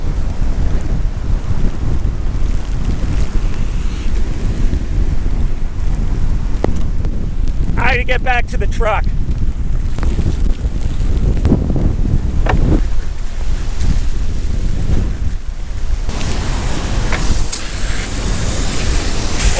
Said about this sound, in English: Because of this wind, I almost don't realize how much rain is hitting me.